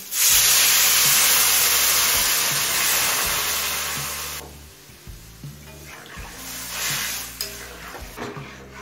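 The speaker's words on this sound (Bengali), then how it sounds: "এবার গরম জল দিয়ে দিচ্ছি।" Hot water goes into frying split peas and vegetables in a pan, bringing a loud steaming hiss that fades after a few seconds into quieter bubbling with scattered clinks.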